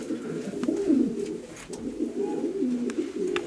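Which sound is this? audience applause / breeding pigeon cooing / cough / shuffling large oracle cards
breeding pigeon cooing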